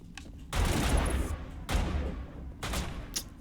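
Bursts of gunfire from the video game Mass Effect, loud and close, in rapid volleys separated by short pauses, with no talk over the shots.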